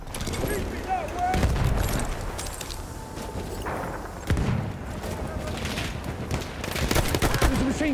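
Gunfire from a Battlefield 1 match on the Amiens map, with a 1907 SF sweeper in use: a dense, continuous clatter of shots and booming blasts over constant battle noise, with voices calling out amid the fighting.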